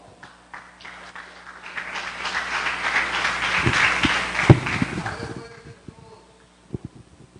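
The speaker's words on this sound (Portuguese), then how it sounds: "aplaudir o Senhor" Applause breaks out in a church congregation, a broad wash of clapping that swells and fades across several seconds, with a few sharper claps and some voices mixed in.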